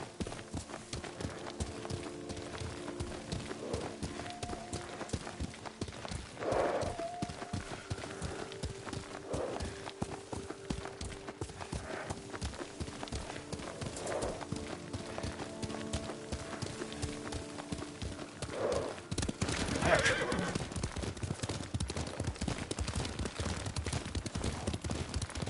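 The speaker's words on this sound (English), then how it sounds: "Lord Sakai taught me to ride a horse." Horse hooves clip-clop steadily while riding in the Ghost of Tsushima video game, with an occasional neigh over a constant background texture.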